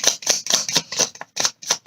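Tarot cards being shuffled, a quick run of about eight crisp, papery riffling bursts in a fast, uneven rhythm, close and alone.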